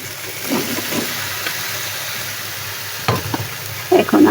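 Dried kechki fish frying in a pan as taro stolons go in, a steady close sizzle with soft stirring scrapes and a few sharper spatter bursts near the end.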